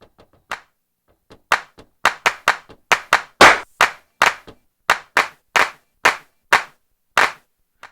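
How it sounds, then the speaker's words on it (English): Programmed clap samples in a music track strike sharply one after another, a sparse pattern at first, then a quick, fairly even rhythm of roughly twenty crisp claps. "So what I want to do is go back in here to those claps, wherever that was."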